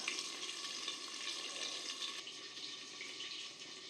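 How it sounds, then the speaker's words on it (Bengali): Prawns and pointed gourd fry in a covered pan, giving a steady, soft, close sizzle with no talk. "এটা একটু ভাজা হোক"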